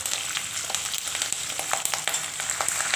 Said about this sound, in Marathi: मग आपण यामध्ये मिरची आणि कढीपत्ता टाकूया.